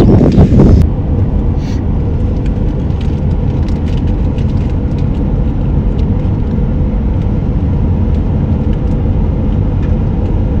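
A car passes along a rural Texas road, a steady loud broadband rumble of tyres and engine with wind buffeting the microphone, a heavier burst at the very start, no voices.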